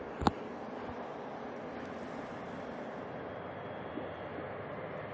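An airliner at Auckland Airport makes a steady, fairly distant engine roar that holds at an even level throughout, with one sharp brief click near the start.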